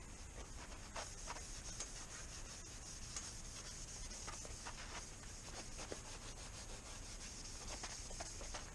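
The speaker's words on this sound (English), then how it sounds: "I wanted to go ahead and run this Scotch-Brite over the barrel and receiving parts" A Scotch-Brite pad rubs over the barrel and receiver of a Savage M-93/R17 .17 HMR rifle, making continuous close scratchy abrasion with faint rhythmic strokes and no talk.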